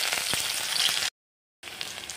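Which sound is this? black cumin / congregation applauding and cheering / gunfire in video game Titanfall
black cumin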